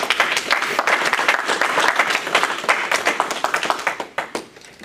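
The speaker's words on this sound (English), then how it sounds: "Please give him a round of applause." Audience applause at a gala program, dense and close, steady for several seconds before thinning out and fading near the end.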